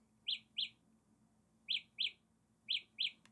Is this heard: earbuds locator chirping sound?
yes